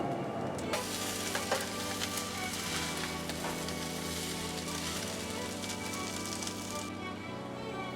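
Vegetables stir-frying in a hot wok for roast pork fried rice, a steady loud sizzle running throughout with occasional clatter of tossing and stirring, no talking.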